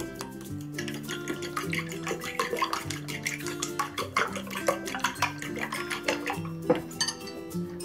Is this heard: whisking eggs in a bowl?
yes